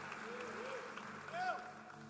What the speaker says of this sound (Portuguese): Quantos podem dar um aplauso ao Senhor?